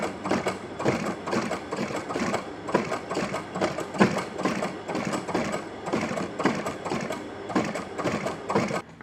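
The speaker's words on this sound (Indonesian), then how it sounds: "setelah seperti ini, kita akan jahit lagi ya" A sewing machine stitches the upper of a flat sandal, running steadily with a fast rhythmic mechanical clatter throughout, close and fairly loud with no talking.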